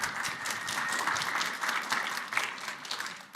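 Audience applause at a LibertyCon International convention panel, a sustained burst of many hands clapping at moderate distance with no talk over it.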